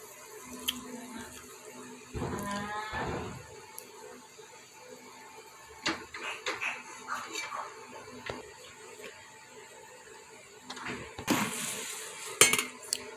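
Puffed rice chivda is tossed with fried spices in oil in a pan, giving soft scattered scrapes and light clinks of a spoon against metal, with a brief murmur of voice early on.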